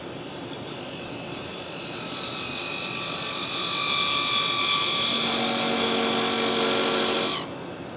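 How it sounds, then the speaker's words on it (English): A parting tool cuts into purple heart wood spinning on a lathe, giving a steady close scraping whine with a high tonal ring that builds, then cuts off sharply near the end. "So my parting tool allows me to go in there and quite effectively"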